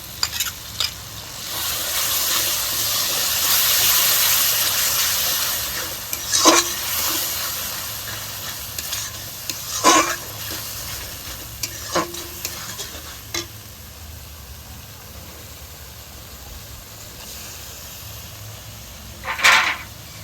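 Ground tomato paste hits hot oil with a loud sizzle that settles into steady frying, while a utensil scrapes and stirs the pan now and then.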